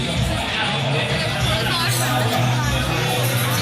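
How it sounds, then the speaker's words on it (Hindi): Dense crowd of devotees gathered at a Durga Puja pandal for Maha Kali in Ranjhi, a close, continuous hubbub of many overlapping voices and shuffling movement, with nearby speech mixed into the babble. "यहाँ पे भक्तजनों की बहुत ही ज़्यादा भीड़ है"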